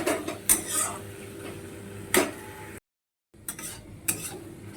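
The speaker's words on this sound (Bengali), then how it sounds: "ভালো করে কষে নিচ্ছি" A spoon scrapes and clinks against a pan while spice masala with Kashmiri chilli powder fries for a rohu fish curry. Irregular metallic knocks sound over a low sizzle, broken by a brief silence.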